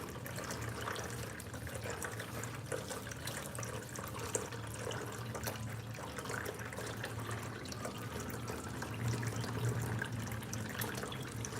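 Kitchen tap water runs steadily into a sink while cooking, a continuous moderate splashing wash with no voices over it.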